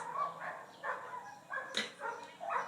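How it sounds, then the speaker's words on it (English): Several dogs barking outside an open window, heard from indoors: repeated yapping barks and whimpers at a moderate distance, coming in steady bursts across the whole stretch with no voices over them. "So I apologize if you guys hear dogs."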